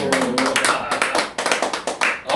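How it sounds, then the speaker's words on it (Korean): A church congregation claps together in a burst of brisk, irregular handclaps, dense and fairly loud, filling a few seconds in a Korean worship service. "박수."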